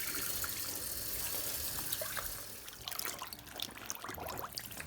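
Water drains from and refills a sink during hand-washing of clothes, a close, steady splashing flow that turns into choppier trickling and gurgling toward the end.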